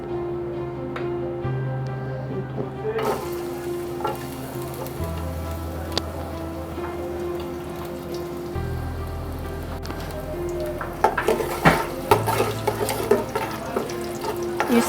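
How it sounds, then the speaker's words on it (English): Onions stir-frying in vegetable oil: a crackling sizzle with scraping stirs that grow busier and louder toward the end, over a low steady background hum, close by and without speech. "You stir fry it a little."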